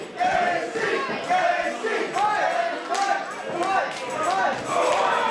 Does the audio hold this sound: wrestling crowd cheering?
yes